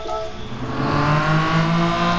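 A TVR Tuscan Speed 6, a 4-litre 24-valve front-engine rear-drive six-cylinder with a five-speed manual, roars loudly at Fuji in Gran Turismo 7, its engine note rising and swelling as it accelerates.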